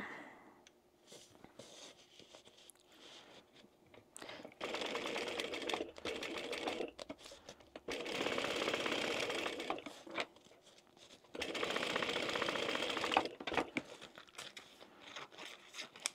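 Sewing machine stitching down the fabric fins of a fish-shaped zip pouch, running in three steady, buzzing bursts of about two to three seconds each, with quiet handling sounds in the pauses between them.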